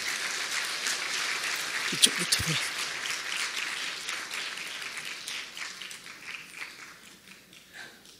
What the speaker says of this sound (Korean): 힘찬 박수로 맞아주시기 부탁드립니다.